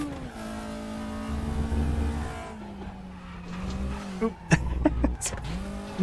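A race car in RaceRoom Racing Experience revs hard under throttle, its engine note rising and falling with shifts, with brief tire squeal and skids toward the end; steady and close throughout.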